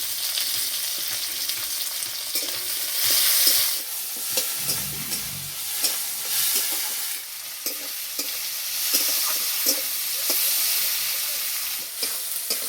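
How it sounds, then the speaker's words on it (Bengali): Chopped tomatoes and onions fry in mustard oil in a wok, a continuous close sizzle broken by repeated stirring scrapes, with no talking. "টমেটো পেঁয়াজ ভাজা হয়ে গেছে"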